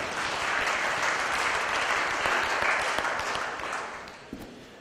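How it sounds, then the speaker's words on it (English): Applause at a western spring national cow show, a broad steady wash of clapping from the crowd in a show arena that tapers slightly toward the end. "give all the exhibitors, your show management here a nice round of applause."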